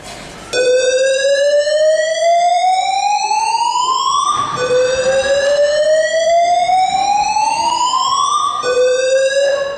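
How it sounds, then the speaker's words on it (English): A biannual fire and safety alarm test sounding during a theatre society gala: a loud electronic siren that sweeps upward in pitch over and over, each rising wail lasting about four seconds before snapping back and starting again. "This is our biannual fire and safety alarm test."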